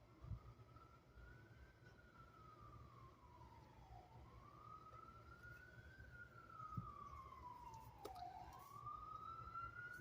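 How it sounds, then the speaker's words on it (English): Emergency vehicle siren wailing in a New York City street, rising and falling in slow sweeps, fairly distant and faint over low traffic rumble. "You hear the sirens in the background."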